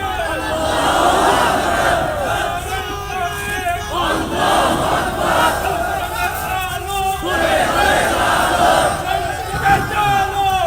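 A large crowd at a Bangla Islamic sermon gathering roars a loud collective takbir response, sustained shouting in waves that swell and fade over several seconds.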